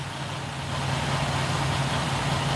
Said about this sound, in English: It must have gotten warm out because Big Red's just idling.